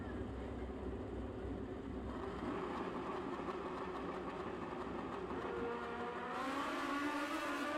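A Kawasaki KZ 900 based drag racing motorcycle with a 1,428 cc engine runs on a drag strip, a steady loud engine roar that climbs in pitch near the end, with distant crowd and track noise.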